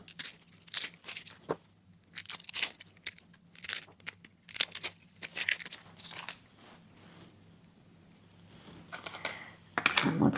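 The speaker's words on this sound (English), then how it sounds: "So let's peel our onion." An onion is peeled for bread and butter pickles, its dry papery skin crackling and tearing in short, crisp, close bursts with pauses between, ending in a busier rustle.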